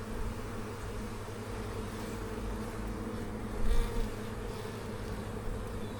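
A steady, dense buzz of calm honey bees fills an open hive during a colony inspection, continuous and close, with a brief louder swell partway through.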